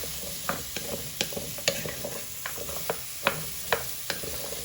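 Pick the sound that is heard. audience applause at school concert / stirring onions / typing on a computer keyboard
stirring onions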